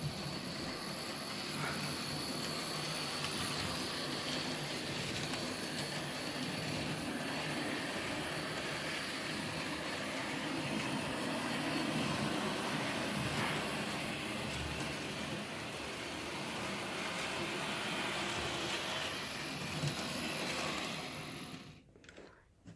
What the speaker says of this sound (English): I can hear one of the motors in the engine.